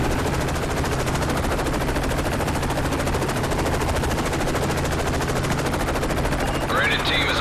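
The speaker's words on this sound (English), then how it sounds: "We're taking fire!" Sustained rapid automatic gunfire rolls on without a break in the video game Modern Warfare 3, loud and close, with a helicopter-like drone beneath it and a brief sharper burst near the end.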